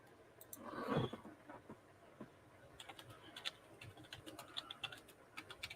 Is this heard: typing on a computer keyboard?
yes